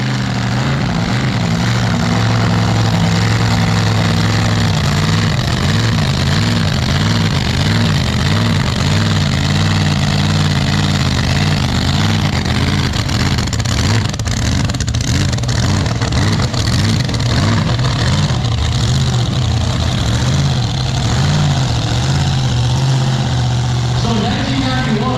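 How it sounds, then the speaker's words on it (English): Blown Hemi engine with zoomies pipes on a drag boat at a Mopar show, a loud, continuous, throbbing idle and rumble that pulses unevenly and dominates throughout. "the sweet sound of a blown Hemi with Zoomies pipes, compliments of this drag boat"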